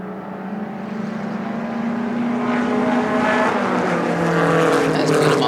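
Sports production race cars roar along the main straight at Sonoma on the last lap, their engines building steadily as they approach and pass, with brief overlapping engine tones.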